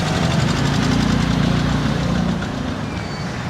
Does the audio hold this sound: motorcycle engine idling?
yes